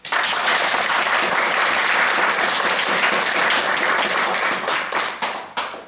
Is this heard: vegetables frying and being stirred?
no